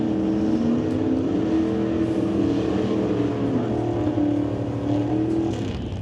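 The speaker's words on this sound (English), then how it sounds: "burnouts are complete for Al Proc and Ross Walker" Drag race cars doing burnouts at an NHRA Summit ET Series finals event in Mission, a steady, loud engine drone that holds throughout with a slowly wavering pitch.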